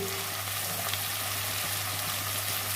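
Chopped onions fry in hot oil with cardamom, cinnamon, cloves, tomato and garlic, a dense, even sizzle running steadily up close for the whole stretch with no voices.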